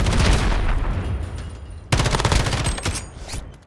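Sustained AK-47 automatic fire in Call of Duty: Modern Warfare, loud and close, two long bursts of rapid cracking shots separated by a brief drop in intensity before the second burst hits hard.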